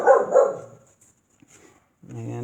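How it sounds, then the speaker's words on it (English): A dog gives two quick, loud indoor barks in succession, followed by a brief silence before a person starts talking. "She always has to bark once or twice. That's okay. Dogs bark."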